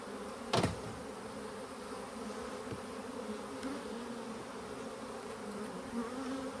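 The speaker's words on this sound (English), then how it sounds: "There's some bees here. Smoke these bees as well." Bees buzz steadily around an open hive while it is smoked during queen-rearing preparation, a continuous close drone with one brief louder burst near the start.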